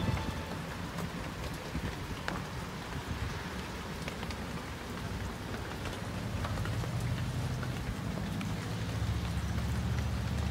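Rain falling in Audierne, Brittany, a steady wash of patter with a low rumbling undertone, continuous and unbroken, no voices present.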